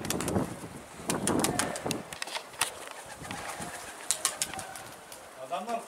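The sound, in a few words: pigeons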